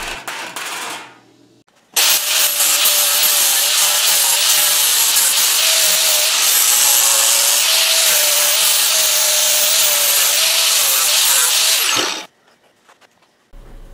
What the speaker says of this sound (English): Next, I sanded the whole thing to obscure my grinding marks and get a uniform-ish texture.